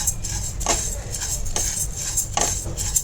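A spoon scrapes and stirs dry moong dal roasting in a pan over a low flame, with a few distinct scraping strokes spaced about a second apart over a steady background hiss.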